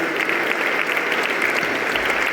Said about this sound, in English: So let's give all of you a clap that you have this program.